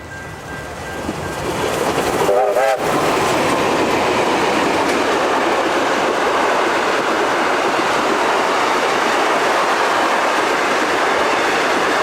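Steam locomotive A2 986 storms past at Donnybrook on a charter train, a loud close roar of rushing wheels and rail noise with a brief whistle-like tone near the start, sustained steadily throughout.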